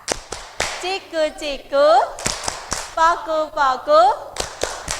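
A primary class claps along while singing a rhythmic children's chant with a teacher, sharp hand claps cutting through steadily between and under the sung phrases.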